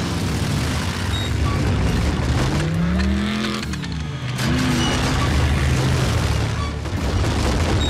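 Engines revving loudly as animated transforming robots drive off, a steady roar with rising and falling pitch sweeps, a brief dip in the middle, then a continued rumble.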